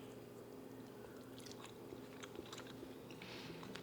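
Someone chews a small bite of herb-butter roast turkey with garlic, producing soft, close, moist chewing and faint crunching sounds over a low steady background.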